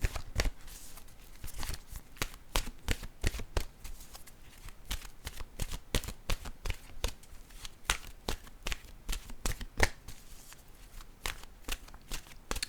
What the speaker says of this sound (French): J'ai le goût de prendre une carte de mon oracle, là, de mon âme intuitive.